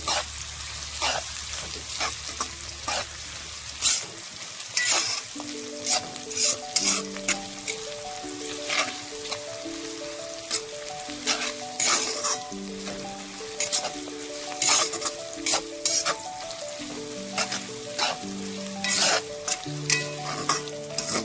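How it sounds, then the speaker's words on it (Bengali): Salted onions fry and are stirred in a pan while cooking a duck meat dish, with a steady sizzle and repeated scraping strokes of the spoon, close and continuous under background music. "মানে পেঁয়াজটা তাড়াতাড়ি ভাজা হয়ে যাবে।"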